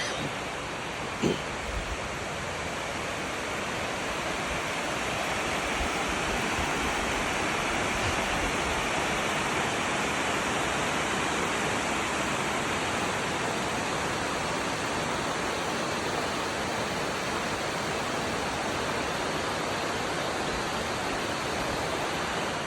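Creek water flows in a wooded valley at a Georgia park, a steady, even rushing wash that continues unbroken, with one brief knock near the start and no talking.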